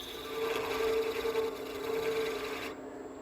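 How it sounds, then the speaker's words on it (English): A wood lathe spins while a scraper shapes a small taper on the end of a turned piece, producing a steady whirring hum with a faint scraping edge. "Now here I'm using a scraper"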